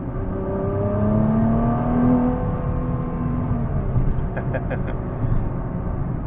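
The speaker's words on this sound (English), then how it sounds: "On the paddle shifters, super quick downshifts." 2023 Nissan GT-R engine revving through quick paddle-shift downshifts at night, loud rising and falling engine pitch with a prominent rev blip, heard from inside the car under a voice.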